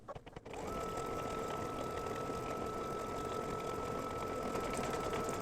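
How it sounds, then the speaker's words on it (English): An embroidery machine stitches out a quilted border at a steady, fast mechanical whir with a constant hum, starting after a brief rustle and running loud and continuous with no talking. "This only takes about a minute to stitch out, so let me continue stitching this."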